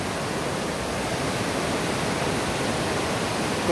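Broad, steady roar of the El Chiflón waterfall, rushing water filling the whole clip evenly, loud and continuous with no voices.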